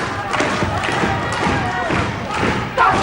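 A 1974 wrestling crowd reacts during a bout, a loud, steady roar of voices with thuds mixed in, rising again near the end.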